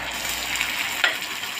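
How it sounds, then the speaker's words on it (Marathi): Tomato puree fries in hot oil with ginger-garlic paste for an egg gravy, a steady close sizzle with a brief stir or scrape near the middle. "टोमॅटो प्युरी घालून चांगलं तेल सुटेपर्यंत परतायचं"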